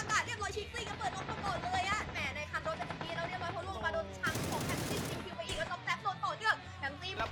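Gunfire in the battle-royale video game PUBG, dense bursts of automatic shots and a loud blast around the middle, mixed with game effects and background chatter throughout.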